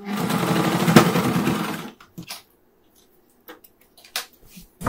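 Electric sewing machine stitching an apron, a fast, loud mechanical chatter running for about two seconds before stopping, followed by quiet scattered clicks and handling sounds.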